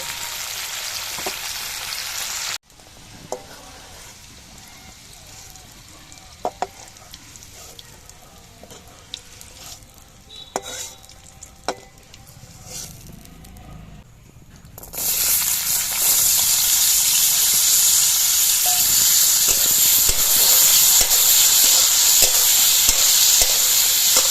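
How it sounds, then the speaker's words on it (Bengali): Vegetables, cashews and raisins frying in oil in a wok give a muted crackle with scattered stirring knocks, then a loud bright sizzle bursts in and stays steady and close for the final stretch. "এই সবজিগুলো ভাজার সময় একটু নুন দিয়ে দিচ্ছি।"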